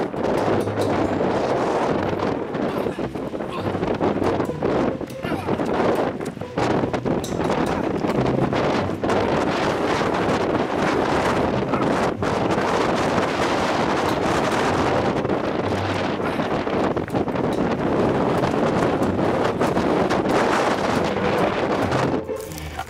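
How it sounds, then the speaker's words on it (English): Strong wind buffets a microphone outdoors at a remote, edge-of-the-world filming location, a loud continuous roar with rumbling gusts throughout, steady and close for over twenty seconds. "I don't know if you can hear me, but the wind is crazy."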